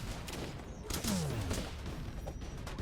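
A rocket launcher fires in Starbound, modded with the Elithian Races mod, giving a launch whoosh with a falling tone around the middle over steady game noise and background sound.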